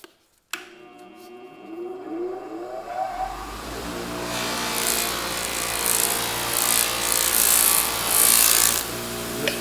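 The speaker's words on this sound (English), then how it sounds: "I'm using a cotton buffing wheel and some white polishing compound." A bench motor spins up a cotton buffing wheel loaded with white compound, its whine climbing over several seconds before a harsh, rushing friction noise builds as the brass fount of a 1950s Petromax lantern is polished.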